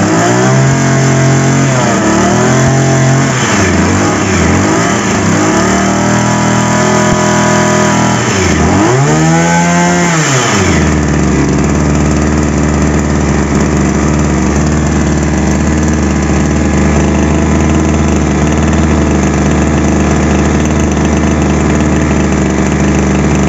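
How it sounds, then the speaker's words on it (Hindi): A two-stroke petrol power sprayer engine, loud and close, revs unevenly through several rising and falling bursts as it catches, then settles into a steady, buzzing idle that continues alone to the end. "इस तरह से इस पेट्रोल इंजन का मेंटेनेंस है दोस्तों, हमने आपको स्टार्ट करके दिखाया।"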